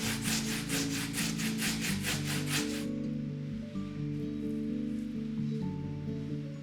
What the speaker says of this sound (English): Grate it on the medium holes of a box grater.